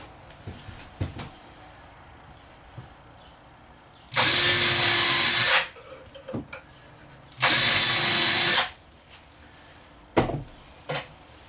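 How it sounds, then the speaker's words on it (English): A power drill with a long bit countersinks a screw hole in wood while building a wardrobe cabinet for a DIY travel trailer, giving two loud whirring bursts of about a second and a half each, separated by quieter handling knocks. "I'm using a longer bit because I want to countersink just maybe in there in half an inch or so I don't split my wood."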